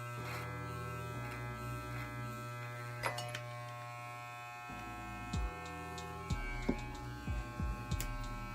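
An electric trimmer buzzes steadily close up while cutting through a big beard, its hum changing pitch as it presses into the hair, with small clicks and handling noises in between.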